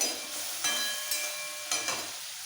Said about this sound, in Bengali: মাছগুলো হালকা ভাজা হয়ে গেছে আমি তুলে নিচ্ছি